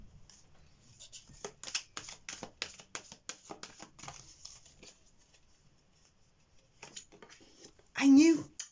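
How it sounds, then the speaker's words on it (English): Tarot cards are shuffled close up in a series of quick riffling and tapping bursts at a moderate level, ending with a brief voice. "I'll shuffle two more times."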